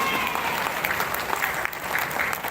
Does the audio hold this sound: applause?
yes